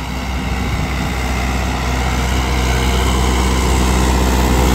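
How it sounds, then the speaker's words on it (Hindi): Modified Mahindra tractor engine running close by, a loud, steady diesel chug that holds an even throbbing drone throughout, with no voices. "जो साउंड है ट्रैक्टर का आप देख पा रहे हो"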